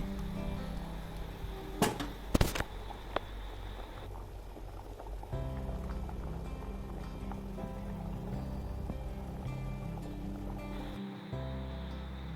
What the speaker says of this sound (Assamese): এয়া চব একদম পূৰা বকবকাই আছে।